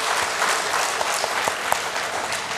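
A church congregation applauding during a Sunday worship gathering, a full, steady burst of many hands clapping together, loud and close, continuing evenly throughout with a few sharper claps standing out.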